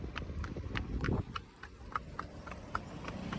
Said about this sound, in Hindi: इसको देखो, एक घोड़ी को कैसे ले जा रहे हैं